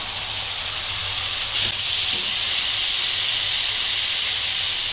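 Boiled banana flower goes into spice paste frying in hot oil, raising a steady, loud hiss and sizzle that holds throughout.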